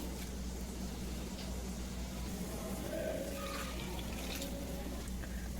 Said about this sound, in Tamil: இப்போ நம்ம அவலை நல்லா வாஷ் பண்ணி எடுத்துக்கலாம்.